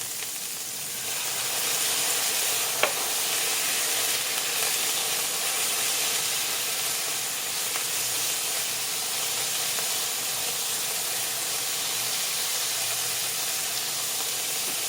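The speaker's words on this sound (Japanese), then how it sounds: "で油が回りましたら、これにみりんを大さじ1杯入れます。" Butterbur kinpira stir-frying in hot oil with a spoonful of mirin just added gives a steady, even hiss and sizzle that holds at one level throughout, with a single sharp clink near the start.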